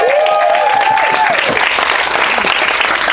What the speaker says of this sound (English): A round of applause for everyone mentioned